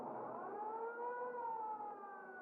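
An ambulance siren wails steadily and loudly throughout, its pitch rising and falling in a smooth continuous sweep with no voices over it.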